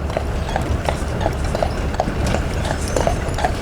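Horse hooves clip-clop in a steady, even rhythm as a horse-drawn tour carriage moves along a street, with the repeated hoof strikes heard over constant outdoor noise and rumble.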